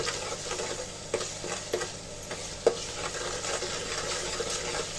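Masala with prawns, tomato and mild chillies sizzles and fries steadily in a pan for prawn biryani, a constant crackling hiss broken by a few sharp stirring clinks and scrapes, close and fairly quiet.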